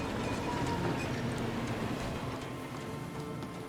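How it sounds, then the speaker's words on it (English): Small train rumbling along in The Thaumaturge video game, a steady dense rolling noise with faint clatter throughout, fairly loud and continuous with no talk. "That seems like a small train."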